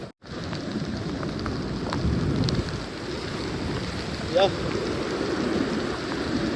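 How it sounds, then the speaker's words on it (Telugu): Heavy rain hisses steadily on Calangute beach in Goa, with gusts of wind buffeting the microphone, while a voice talks over the downpour. "ఎంత మొత్తంలో వర్షం పడుతుందో మీరు అర్థం చేసుకోండి ఇప్పుడు గోవాలో"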